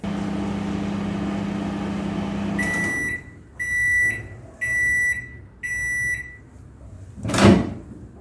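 A microwave oven hums steadily while roasting a tea masala spice mix, then stops and sounds four evenly spaced electronic beeps, followed by a loud clunk of the door close by.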